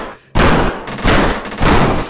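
Rapid gunfire from a video game, opening on a sharp loud burst after a brief quiet moment, then continuing in repeated loud volleys that crackle close up with no talk over them.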